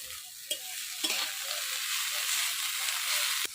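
Fried potatoes with greens sizzle in a pan in a Bengali village kitchen, a steady hissing fry punctuated by a few sharp stirring clanks.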